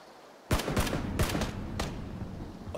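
Gunfire in the video game PUBG: several sharp, close shots in quick bursts, one volley then a couple of spaced single cracks, with no talk.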